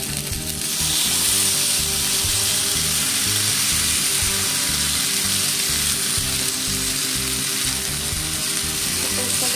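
A paste tipped into a hot pan for a raw green banana dish fries with loud, dense sizzling and crackling that holds steady throughout, with faint scraping underneath.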